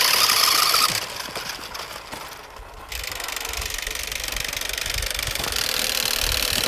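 New Bright Bigfoot R/C monster truck motor running through snow, a buzzing rattly whine that drops away briefly and then returns steady and close.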